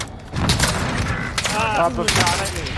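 Rapid bursts of video game shooter gunfire, dense automatic fire rattling close and loud through the clip, with a voice talking over it.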